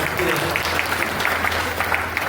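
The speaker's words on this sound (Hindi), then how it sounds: "एक बार ताली बजाइए" An audience at a gathering in Maihar claps together, a loud, busy patter of applause with voices mixed in.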